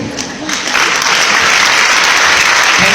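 Loud audience applause at a talk or award gathering in India, a dense burst of clapping that swells after a brief start and stays strong and steady to the end.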